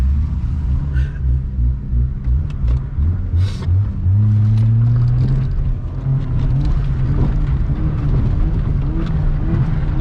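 Vehicle engine revving, a loud close rumble with rising and falling pitch as the throttle is pushed, steady throughout with no speech.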